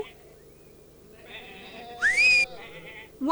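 Sheep bleat in a field, a few wavering calls rising to one louder, sharper bleat near the end, with a whistle-like rising swoop over the top.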